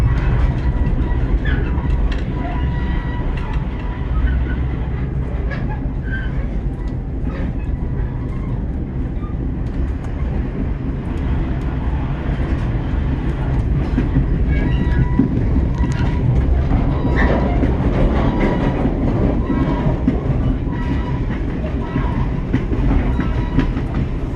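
A passenger train hauled by RBMN F-unit locomotives runs along rails beside a river, with a steady loud rumble and clickety-clack of wheels that continues throughout, heard from on board.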